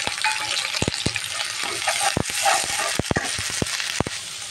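Onion and garlic paste frying in hot oil for a pangas fish bhuna, a steady loud sizzle broken by sharp spoon-scraping clicks and taps against the pan, with no voices.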